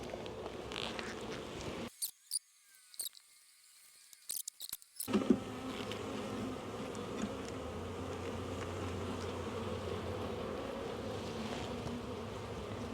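Honey bees hum steadily in a low, continuous drone while a nuc hive is opened for inspection, broken by a few seconds of near silence and some faint handling knocks.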